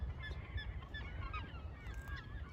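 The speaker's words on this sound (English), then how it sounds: "you'll probably hear all of the seagulls in the background" Seagulls calling on the Isles of Shoals, many overlapping squawks and cries at a moderate distance over a continuous windy, noisy background, with no talk.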